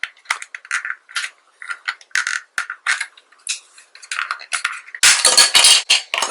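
The plastic shell of an Xbox controller is pried apart by hand, giving a run of sharp, close plastic clicks and snaps. The sounds come in quick irregular bursts and end in a louder crackling stretch of separating plastic.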